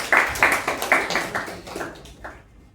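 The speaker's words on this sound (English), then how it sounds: "A round of applause to all the auxiliary role takers" Brief applause from a few people at a Toastmasters club meeting, a short run of close, uneven claps that quickly tapers off into quiet.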